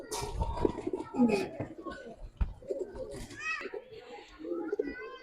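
Giribaz pigeons coo softly nearby in a collection, with low throaty calls mixed among bird chatter, while people and children talk over them.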